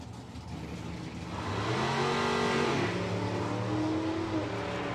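A drag race car launches hard on a big throttle stop, its engine rising from a steady drone into a loud, sustained roar at a strip event, with no speech.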